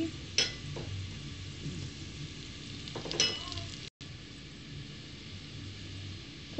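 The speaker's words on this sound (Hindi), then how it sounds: "जीरा डालते ही इसकी आवाज आने लगती है" Cumin seeds crackle and sizzle as they hit lightly browned onions in hot oil, a steady close frying hiss with a couple of brief louder spatters and no talking.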